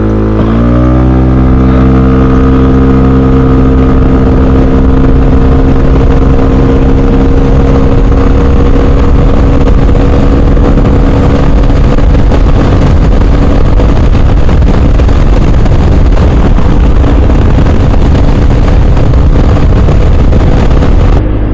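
A KRV Moto 180 motorcycle accelerating hard on a road test, its engine climbing from a low idle into a loud, sustained high-revving drone with strong wind roar, very close.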